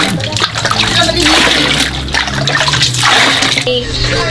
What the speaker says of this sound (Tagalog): ito yung pinagamit ang tubig ni Baby Panligo